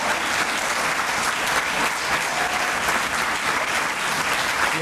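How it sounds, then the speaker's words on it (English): At an event honoring the Morial legacy, a large audience gives a strong round of applause for Richard Peddington, dense even clapping that stays loud and steady throughout. "I really want to ask you to give him a big round of applause."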